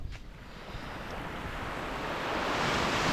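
Ocean waves on a sandy beach at Puerto Galera, a broad hiss of surf swelling louder toward the end, with some wind noise on the microphone and no talk.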